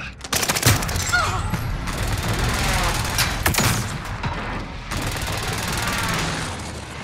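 Video game gunfire rattles in bursts of rapid shots, loud and dense near the start, then thinning into scattered cracks over a steady background rumble, with faint voices underneath.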